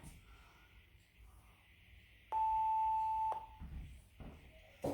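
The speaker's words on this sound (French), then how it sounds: "Je nous arrête le bip" A single steady electronic beep from an interval timer during a HIIT workout sounds for about a second, clear against a quiet room background.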